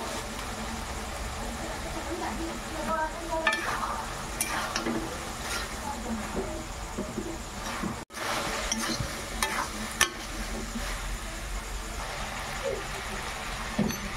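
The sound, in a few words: sautéing chana masala in a pan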